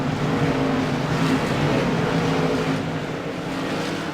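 Modified race cars roar around Lanier National Speedway on a CRA Modified Madness Tour race, a dense, loud, steady engine drone with several cars running close together, holding continuously without a break.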